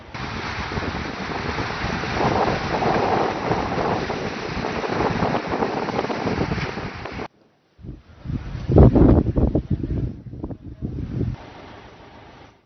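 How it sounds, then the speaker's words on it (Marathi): Water rushes through nine opened dam gates in heavy monsoon rain, a loud, broad roar that holds steady, cuts out briefly, then returns in surging bursts. "धरणाचे नऊ दरवाजे अर्ध्या मीटरनं उघडून एकोणचाळीस हजार सातशे अडुसष्ट क्युसेक पाण्याचा विसर्ग करण्यात येतोय"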